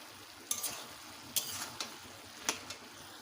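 Banana flower curry with green chillies is stirred in a pan, a faint sizzle broken by a few sharp spatula clicks and scrapes against the metal, with no talking.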